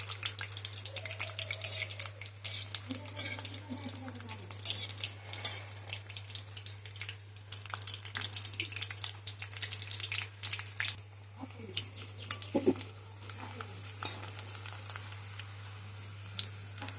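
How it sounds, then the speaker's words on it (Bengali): Papad frying in hot oil beside a pot of khichuri, a continuous close sizzle and crackle with occasional stirring and crinkling, steady at moderate loudness throughout. "আর এদিকে হচ্ছে পাঁপড় ভাজা"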